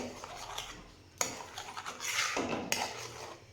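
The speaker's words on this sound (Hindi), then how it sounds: "इस तरह से इनको चलाते हुए अच्छी तरह से बॉईल करना है।" A spoon scrapes and clinks around a pan of boiling milk with lumps dissolving, with two sharp metallic knocks standing out from the steady stirring and bubbling, close and fairly quiet, with no talk.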